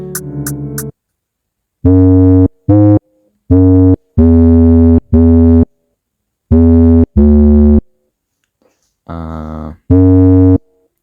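808 synth bass slide notes sound in short bursts, some held and some clipped, separated by silence, with a brief higher tone near the start and another near the end.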